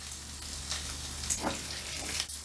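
Bacon sizzles and crackles in a pan as it browns, a steady frying hiss punctuated by a few soft pops and scrapes as it is flipped.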